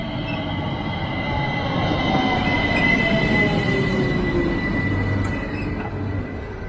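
A train rolling into a station in Germany, a steady loud rumble of wheels on rails with high squealing tones drawn out over several seconds, with no voices.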